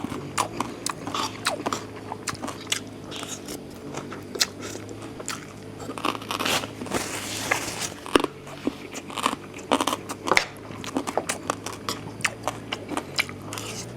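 Crunchy biting and chewing of crisp food, close and continuous, with sharp crackling bites and steady mastication, alone without talk.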